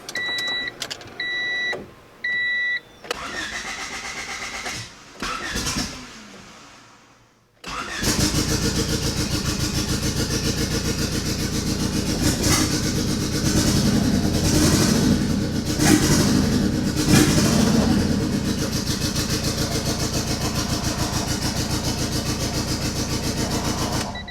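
Turbocharged Honda Civic engine with AC and power steering cranks briefly after a few short electronic beeps, then catches and settles into a steady, loud idle that runs unbroken with no voices.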